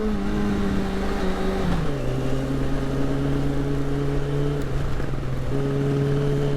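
A motorcycle engine with a sticking throttle holds a steady, loud hum that shifts pitch a couple of times without settling back, with constant road and wind rush underneath.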